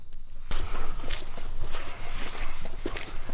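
Footsteps at a haunted spot, heard as a close, steady run of scuffing, crunching steps that continues throughout at a fairly loud level.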